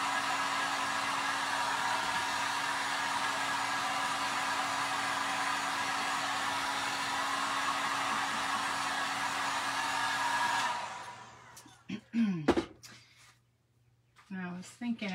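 A hair dryer blows continuously with a steady, loud airy roar while drying an acrylic watermelon painting, then switches off near the end, leaving brief rustling and a voice speaking.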